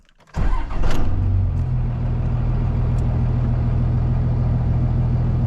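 A second-generation Dodge Cummins truck diesel cranks and fires after a short silence, then settles into a loud, steady, rumbling idle close by.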